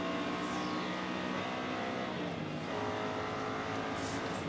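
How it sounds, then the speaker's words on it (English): Ford Mustang race cars with 427 engines roar together at the race start at Sebring International Raceway, a loud, dense, continuous engine blare with shifting pitch as the cars pass close by. "These Mustangs sound good too. They do. Those are 427s, I think."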